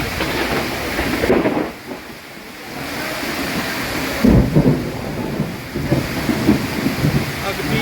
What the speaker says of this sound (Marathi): विजांच्या कडकडाटाचा हा पाऊस चालतो आहे